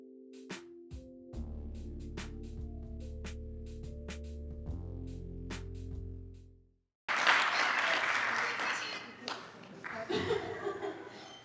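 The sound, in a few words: audience applause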